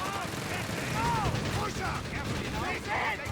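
Sustained heavy machine gun fire rattles through a Company of Heroes 3 battle, dense and continuous under a commentator's voice, with whooshing battlefield noise layered in.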